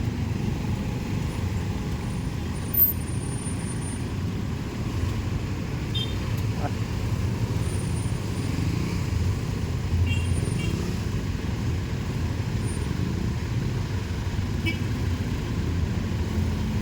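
Road traffic in a city, a steady loud rumble of cars, trucks and buses passing close by, continuous throughout with occasional faint higher tones and a brief hiss.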